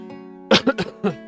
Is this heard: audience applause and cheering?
no